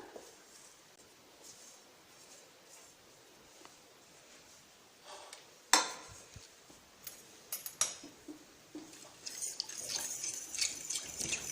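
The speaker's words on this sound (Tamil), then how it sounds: "இப்போ முதல்ல நம்ம எடுத்து வச்சிருக்கிற பாலில் இந்த பொடி எல்லாத்தையும் ஒன்றா சேர்த்து கலந்துடலாம்." A spoon stirs spice powder into milk in a bowl for egg bread toast; quiet at first, then scattered clinks and scraping swish in short bursts, close and fairly soft.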